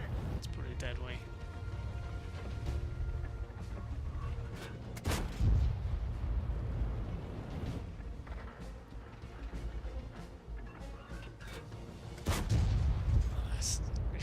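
Tank cannon fire in World of Tanks: a couple of sharp, heavy booms stand out over a steady engine rumble while someone talks over most of it.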